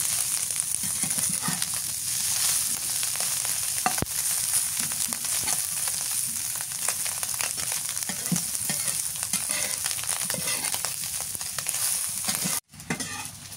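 Fish frying in a pan, a steady dense sizzle and crackle running loud and close throughout, with faint stirring scrapes and no talk.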